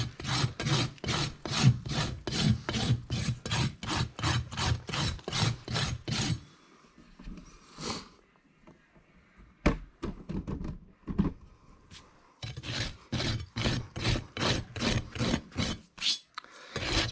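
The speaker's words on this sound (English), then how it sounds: "Now we're gonna dress to our bevel there that we've carved in from the bottom." A new file rasps across the underside of a horse's hoof that had laminitis, dressing a carved bevel during shoeing, in a long run of steady, even strokes, then a pause with faint scraping before another quick burst of close, loud strokes.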